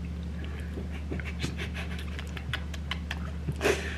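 Dog panting steadily and close while being kissed, the quick breaths running throughout with a few brief scratching or clicking sounds over a constant low hum.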